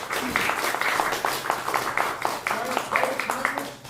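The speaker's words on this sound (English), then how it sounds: "Give her a round of applause." An audience in a theatre applauds a vocalist as she comes out, with moderate, uneven clapping that continues throughout, fairly faint and with voices audible underneath.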